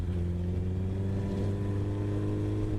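A Suzuki Hayabusa sport motorcycle cruising on a straight road, its engine holding a steady, even drone close to the microphone with some wind rush.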